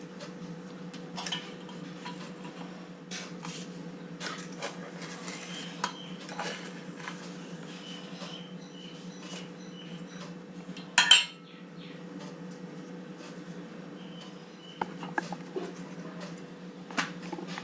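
Rolled pappad dough cut on a flour-dusted surface gives faint, irregular light taps and ticks, with one sharper knock partway through, under a quiet steady background hum.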